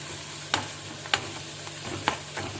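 Turmeric sautéing in a pan for rava kichadi, a steady soft sizzle broken by several sharp clicks of a spoon stirring against the pan.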